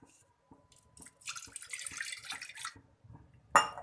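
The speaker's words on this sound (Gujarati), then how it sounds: "આપણે એક કડાઈ લેવાની તેમાં આપણે થોડુંક પાણી નાખવાનું" Water pours briefly into a wok in a home kitchen, a short splashing trickle between soft clinks and taps, followed by a sharp clatter at the end.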